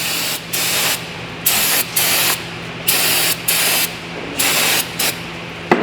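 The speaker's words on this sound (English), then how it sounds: "You wanna clean it, a little brake cleaner." Brake cleaner is sprayed onto rear brake hardware from a 2011 Ford Fusion SE held in a vise, in about nine short hissing bursts with brief gaps between them, loud and close.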